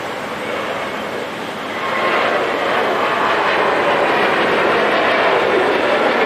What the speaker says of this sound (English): we enjoy this A320neo departing on runway 28